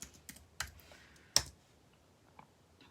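A search query is typed on a computer keyboard as a few sparse, close key clicks, one noticeably sharper, separated by quiet pauses.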